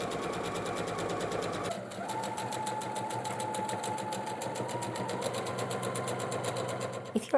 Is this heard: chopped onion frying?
no